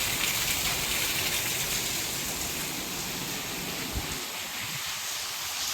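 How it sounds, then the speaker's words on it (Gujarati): Heavy rain pours down steadily during a flood in Junagadh, a dense, close wash of noise that holds constant throughout with no voices. "વરસાદ જો ધોમ ધોકાર પડે"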